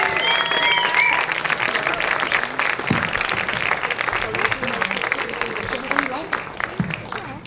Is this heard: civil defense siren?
no